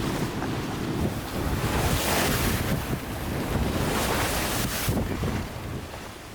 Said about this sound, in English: I feel like a little kid battling the waves, like Popeye